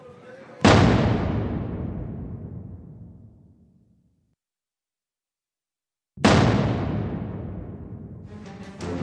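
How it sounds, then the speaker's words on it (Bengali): Two heavy, booming blasts, missile strikes or interceptions over a city under attack, each a sudden loud crack that rolls into a long fading rumble, the second following about five seconds after the first dies away. "यहाँ पे आप देख सकते हैं बहुत जोरदार धमाके हो रहे हैं"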